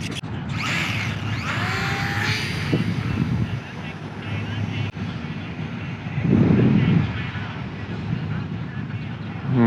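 Eachine BF109 micro RC warbird model plane buzzing as it flies past outdoors, a steady electric whine under wind noise with a brief louder swell midway.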